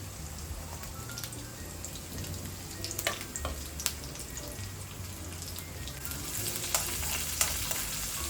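Chopped ginger and green chillies sauté in a pan for spinach pulao, crackling with a constant close sizzle like light rain, with occasional sharper pops and spatters rising slightly toward the end; no voices.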